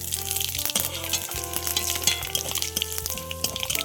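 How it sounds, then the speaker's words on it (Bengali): Bay leaves and torn chilies dropped into hot oil in a kadai for a bottle gourd and shrimp curry, sizzling loudly and continuously up close, with a few metallic clinks of the pan and utensil. "তেল গরম হয়ে গিয়েছে, এবার তেজপাতা আর দুটো লঙ্কা ছিঁড়ে দিয়ে দেবো।"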